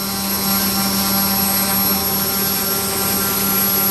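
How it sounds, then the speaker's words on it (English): A Super Chipmunk model plane's electric motor runs without a break, a loud, steady whine with a fixed hum and high tones, unchanged from start to end. "That motor hasn't stopped for 13 minutes continuously."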